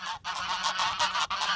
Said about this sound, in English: Are those geese? Those are geese.